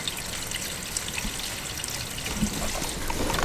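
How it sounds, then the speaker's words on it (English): Water trickles steadily from an outdoor tap at a farm animal pen, a soft continuous splashing stream that runs unbroken and fairly faint throughout. "let's turn this water off"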